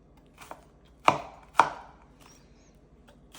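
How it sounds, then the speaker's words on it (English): Knife chopping thinly sliced onion on a board, four or five sharp separate taps spaced unevenly, close with quiet gaps between strokes. "And chop them."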